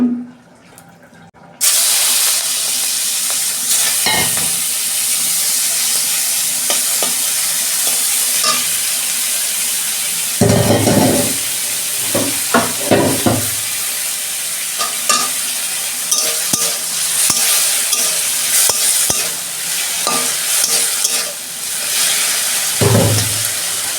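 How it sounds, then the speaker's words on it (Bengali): Shrimp frying in hot oil in a wok, a steady loud sizzle that runs throughout, with occasional clatters and stirring scrapes breaking through. "তেল দিচ্ছি কড়া চিংড়ি মাছটা ভাজবো"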